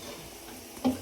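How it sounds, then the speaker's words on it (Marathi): Boondi, the small gram-flour drops, frying in hot oil in a home kitchen gives a steady, faint sizzle, ending with a short louder clunk from the pan. "तर बॉबी तळून घेते आता"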